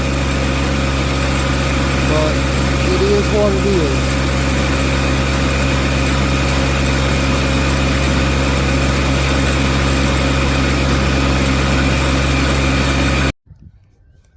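A small John Deere 1025R compact tractor engine drones steadily at idle throughout, with someone talking briefly over it before the sound cuts off abruptly near the end.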